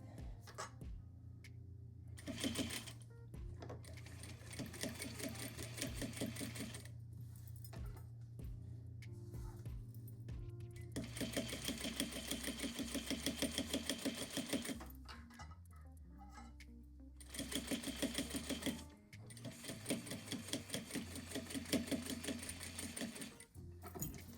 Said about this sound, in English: And I do stitch length 2, so it's tiny. Stitch it.